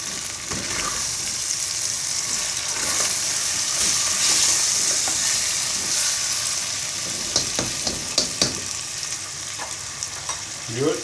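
Finely chopped tomatoes sizzle and fry steadily in a pan for a curry with chicken and turnip, with occasional scraping stir strokes toward the end; no talking.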